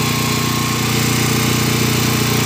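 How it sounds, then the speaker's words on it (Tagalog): A gasoline generator runs steadily nearby, a loud, continuous engine drone with a fast even pulse and no pauses or voices. "kita na natin na okay na yung andar ng generator"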